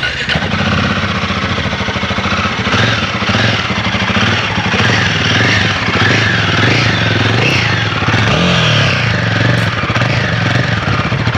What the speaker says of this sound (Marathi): आता आपण ही गाडी चालू करून बघूया की फायरिंग कसं आहे, एक्झॉस्टचा आवाज कसा आहे।